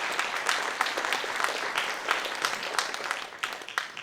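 An audience at a fringe mind-reading show applauds a volunteer coming up on stage, many hands clapping in a steady, moderately quiet patter with scattered sharper claps, continuing for several seconds.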